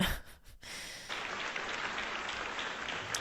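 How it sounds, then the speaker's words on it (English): Applause at a Vaganova Ballet Academy graduation exam performance, a steady wash of clapping from an audience that starts after a brief breathy pause and continues evenly, fairly faint and distant. "lots of applause"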